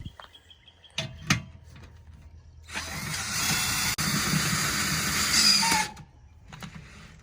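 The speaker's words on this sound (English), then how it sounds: "we bought a tool to use with our drill for convenience" A power drill with a crank adapter whirs steadily for about three seconds at close range, lowering RV stabilizers, preceded by a few mechanical clicks and clunks.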